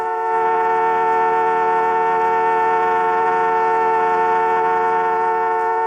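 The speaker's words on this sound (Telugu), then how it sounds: "ఇదిగో, హార్న్ కొడుతుంటే వినిపించట్లా?" A car horn blares in one long, steady, unbroken honk, loud and close, holding the same tone for several seconds with no voices over it, in a scene from an old Telugu film.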